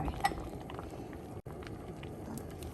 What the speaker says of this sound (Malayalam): വെള്ളം ഒഴിച്ചു.